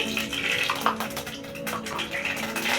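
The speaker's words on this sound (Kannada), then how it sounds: "ಎಣ್ಣೆ ಕಾದಿದೆ ಇದಕ್ಕೆ ಸಾಸಿವೆ ಹಾಕೋತಾ ಇದ್ದೀನಿ" Mustard seeds splutter in hot cooking oil in a pan while bun dosa is being made, giving a continuous close crackle of small pops over a faint steady hum.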